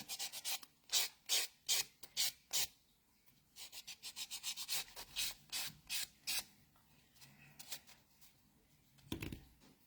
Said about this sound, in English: sort of rub your fingers over the nails just to make sure you've got no sort of rough bits sticking out